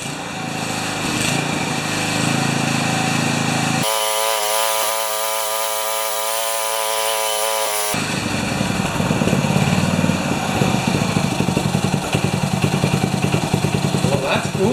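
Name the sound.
3HP Briggs Turf Power tiller engine starting and running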